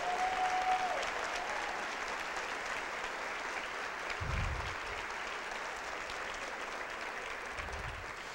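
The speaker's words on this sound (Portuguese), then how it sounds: "Se é para Jesus, aplauda bem forte." A church congregation breaks into steady applause, a broad wash of many people clapping at an even, moderate level for several seconds, with a brief tone at the start and a couple of low thumps partway through.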